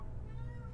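A house cat gives a single drawn-out meow, close and fairly loud, lasting under a second with no talking over it.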